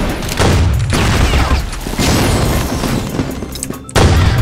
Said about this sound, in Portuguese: Da onde veio essa granada, Jesus?